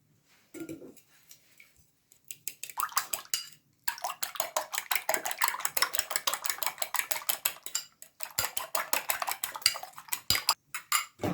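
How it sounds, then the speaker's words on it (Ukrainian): Rapid metallic clinking of a whisk or fork against a bowl as egg is beaten with oil for dumpling dough, close and brisk, in several bursts with brief pauses. "Яйце перемішую з олією."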